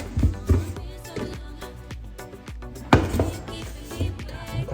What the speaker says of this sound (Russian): Хорошенечко размешиваем.